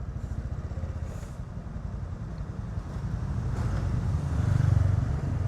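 A motorbike passes on Soi 6 in Pattaya in the early morning, its engine building to a nearer, louder rumble toward the end over faint street ambience and wind.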